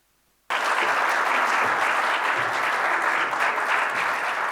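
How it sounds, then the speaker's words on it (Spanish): Applause breaks out abruptly after a short silence as an audience at a cybersecurity summit claps following a presentation, a loud, dense, steady ovation sustained for about four seconds. "Un fuerte aplauso, muchísimas gracias por su presentación."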